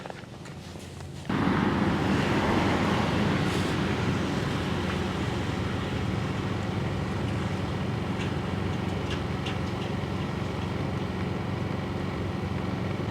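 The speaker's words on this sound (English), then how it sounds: "We are on low idle, about 25 feet away." Bilt Hard 2500 W inverter generator on low idle, a steady even hum heard from about 25 feet away after a brief quieter start, with no talk.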